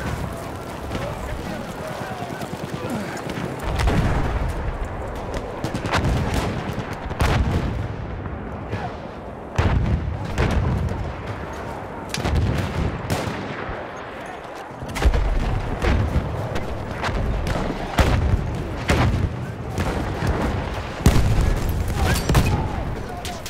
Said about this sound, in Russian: Ловите гранату!